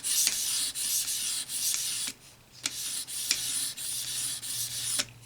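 A knife is stroked along an EdgePro Apex sharpening stone in close, even rasping passes, each ending in a sharp click, with a brief lull about two seconds in.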